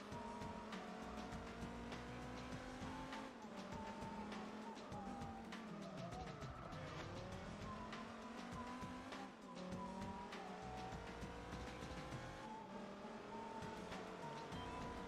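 Race car in the Gran Turismo 4 video game, engine note rising and dropping loudly as it brakes and turns through corners, with tire squeal and skidding, continuous and close throughout.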